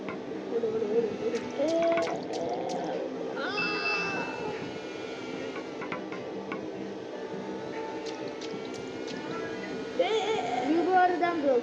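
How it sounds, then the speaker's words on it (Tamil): Splashing, dripping water effects and bright dings from a Tamil multiplayer gameplay session, a few sharp watery bursts under steady excited talk and game music. "ஐயோ தண்ணி."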